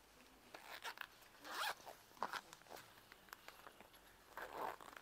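Zipper on a handbag with mesh and multiple pockets being pulled open and closed, several quick raspy zipping bursts of varying length, close and fairly quiet.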